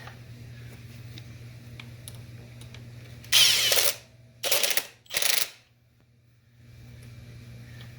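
A ratchet tightens bolts on a 2017 Subaru WRX STI intercooler in three short, close bursts of rapid clicking, separated by pauses over a low background hum.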